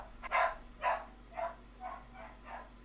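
Dogs barking at home, six sharp barks in a row, loudest at first and fading with each bark, with no one talking over them.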